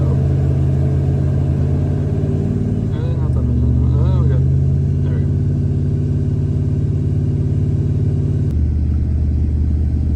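A car engine is held at a steady fast idle around 2,000 RPM, a loud continuous rumble that drops in pitch near the end, with a person talking briefly over it.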